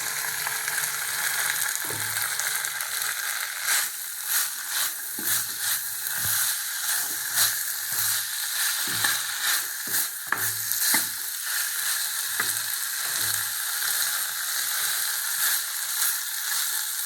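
Elephant foot yam and chickpeas fry in a pan, a continuous close sizzle overlaid with repeated scraping and tapping of a ladle stirring in an uneven rhythm, steady in level with no voices.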